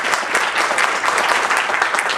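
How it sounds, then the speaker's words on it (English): Audience applauding a panel of speakers, a dense, steady wash of many hands clapping at close range throughout, with no voices over it. "Let's give a quick round of applause for our panelists."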